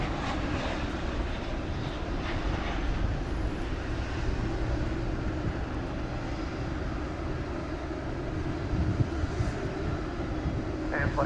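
A plane taking off at night at DFW Airport, its engine roar a steady, loud broadband rumble that holds throughout with no gaps.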